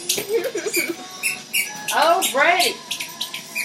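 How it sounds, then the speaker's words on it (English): A dog chews a squeaky toy, producing repeated high rubbery squeaks in quick bursts, some sliding up and down, close by in a room while people talk briefly. "I apologize in advance for all the squeaking noises you hear in the background."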